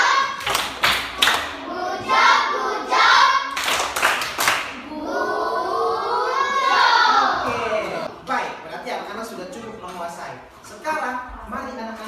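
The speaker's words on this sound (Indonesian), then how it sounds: "Kita berikan tepuk good job buat kelompok 1." Elementary school children in a classroom perform a rhythmic clapping chant for a group, sharp hand claps in patterned bursts mixed with their chanting voices, loud and close, followed by the children talking.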